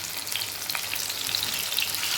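Raw mango and tomato fry in oil in a kadai, giving a dense, close, bright sizzling hiss with tiny crackles throughout and no speech.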